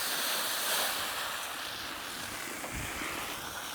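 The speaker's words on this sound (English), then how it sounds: "So I put a little water on the griddle." Water poured onto a very hot griddle of a Mini Gather Grill gives a steady, broad hiss that stays loud and continuous throughout, with no talking.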